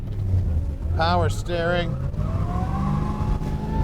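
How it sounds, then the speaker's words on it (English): A 1969 Chevrolet Chevelle's engine rumbles with a steady low drone while the car is driven, heard throughout beneath a voice speaking briefly inside the cabin. "Tell you what, the car sounds amazing."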